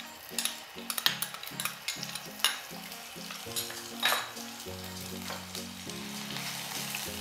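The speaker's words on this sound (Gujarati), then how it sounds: "તેલ ગરમ થઈ ગયું છે। હવે આ લસણ મરચાંની પેસ્ટ એડ કરવાની છે।" Garlic and chili paste frying in hot oil in a home kitchen while a Schezwan frankie is being made, a steady sizzle with rhythmic stirring and scraping of a pan, close and fairly quiet.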